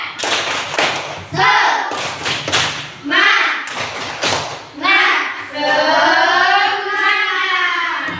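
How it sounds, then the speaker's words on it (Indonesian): A classroom of students performs a rhythmic clapping cheer, loud thumping claps in patterned bursts mixed with children's voices chanting together in unison. "Tepuk semangat."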